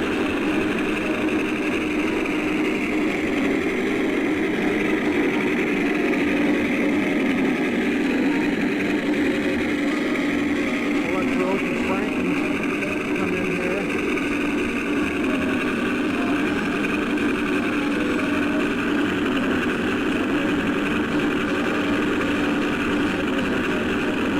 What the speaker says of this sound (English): they have their motors idling, and they're waiting for the shutdown command from Commander Jim